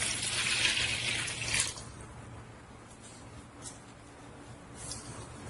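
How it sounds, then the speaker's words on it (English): Urine poured from a measuring container into a toilet in a clinical setting, a brief splashing pour lasting under two seconds, then a quiet room with faint drips. "Now I will dispose of the urine into our toilet"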